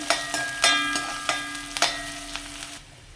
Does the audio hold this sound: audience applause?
no